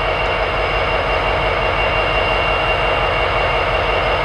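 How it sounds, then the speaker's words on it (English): Freight train with seven locomotives, including an IC Heritage unit and a Kansas City Southern unit, idles in Homewood, Illinois, its diesel engines a loud, continuous low rumble with a steady high whine above it. "waiting for this freight train with a massive power consist to take off"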